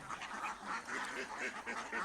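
Ducks in a lit duck house quack repeatedly in overlapping bursts, a lively, fairly close chorus of honking quacks with no speech.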